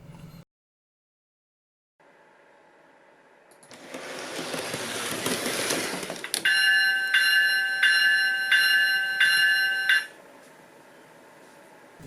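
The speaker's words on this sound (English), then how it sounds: "The locomotive will take off very quickly and come to a stop with its bell ringing." An HO scale GE ET44AC model locomotive accelerates with a rising motor whir, then its electronic bell rings in a steady repeating pattern for several seconds before stopping, with no talk.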